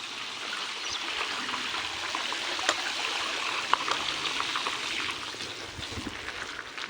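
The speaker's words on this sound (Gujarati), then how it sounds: "શેરીમાં પણ પાણી ભરાઈ ગયું છે" Rainwater rushes steadily through a flooded village street in a continuous broadband wash, with a few faint splashes and knocks and no speech.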